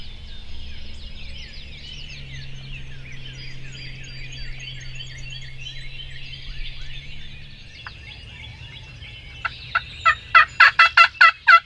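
A wild turkey gobbles in a rapid run of loud, evenly spaced calls near the end, after a long stretch of faint, distant bird chatter and low hum, on Kentucky's turkey season opening day.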